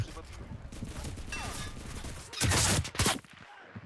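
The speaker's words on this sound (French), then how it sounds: "Je viens de tirer sur le tank allié qui se faisait assaut par des gars" Gunfire bursts in the WWII shooter game Enlisted, with a sustained loud burst mid-clip and another short burst after it, over a busy battlefield background with scattered shots.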